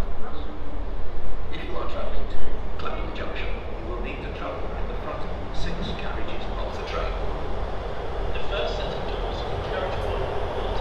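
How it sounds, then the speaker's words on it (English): Train pulling into platform 4 at Basingstoke station on the South Western Main Line on a hot day, a steady low rumble and rail noise with scattered clanks and squeals, while a voice talks over it. "And a train coming in on platform 4."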